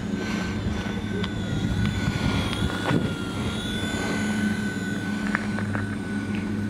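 A small Wltoys V911 RC toy helicopter flies outdoors in light wind, a steady high whine with a continuous rotor hum around it and a few faint clicks, while someone talks over it.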